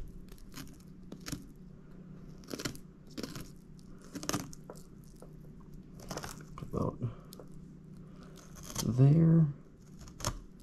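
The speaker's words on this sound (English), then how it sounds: "I'm just going to go ahead and follow the rib cage and just keep cutting on down" Intermittent crunching and scraping of a fillet knife cutting along the rib cage of a big bullhead fish, close and moderately loud in short bursts, with someone talking between the cuts.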